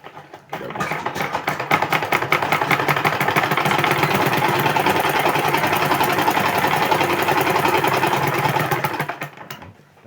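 An electric sewing machine runs continuously for about eight seconds while double stitching a trouser zipper, a rapid, even mechanical clatter close up that starts and stops abruptly, with no talking.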